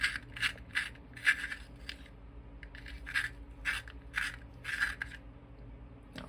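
A cinnamon-coloured pencil gets a quick sharpen, short bursts of dry scraping and grinding coming in an irregular rhythm, close and fairly quiet, with brief pauses between turns.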